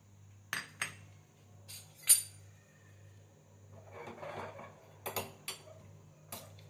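A small kadai set down on the stove with several sharp metallic clinks and taps of cookware, spaced irregularly over a low steady hum, with a soft rustle in between.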